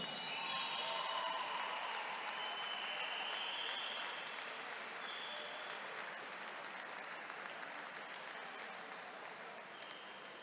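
Sustained applause fills a hall for medal-winning athletes at a podium ceremony, dense and steady clapping from a crowd lasting the whole stretch and easing slightly toward the end.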